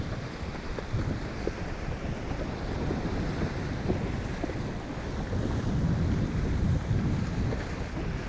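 Strong surf at Oreti Beach, New Zealand, on a rough day, where horses are walked through the water: a continuous low roar of breaking waves, heavily buffeted by wind gusting across the microphone, with no voices.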